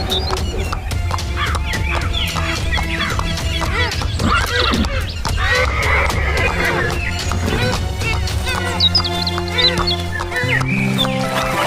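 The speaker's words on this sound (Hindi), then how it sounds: "राजा अपने घोड़े पर सवार होता है और जादुई तालाब की तरफ रवाना हो जाता है।" A horse whinnies loudly and repeatedly along with clip-clop hoofbeats as a king rides off on horseback toward a magical pond, set against background music and narration.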